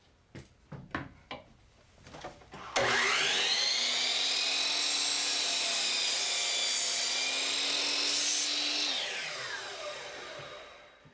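A power saw slicing through four stacked pieces of wood at once: a few sharp knocks and handling sounds, then a loud, steady whining cut lasting about six seconds before the motor winds down.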